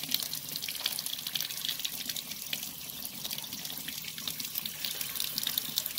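Cold water gushes steadily from a tap during a thermal regulator replacement on a Pentair MasterTemp 400 pool and spa heater, a continuous close hiss and splash with no pauses and no talk.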